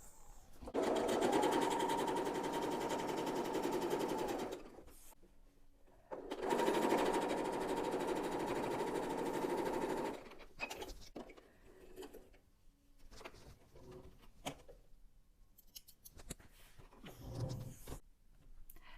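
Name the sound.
sewing machine stitching fabric pieces together for a jelly roll quilt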